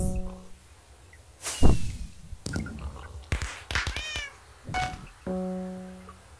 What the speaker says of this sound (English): Time to meow.